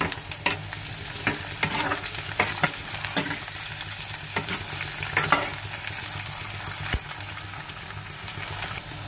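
Onions and green chilies sizzle and crackle steadily in hot oil, with periodic scraping stirs and sharp pops, close and fairly loud.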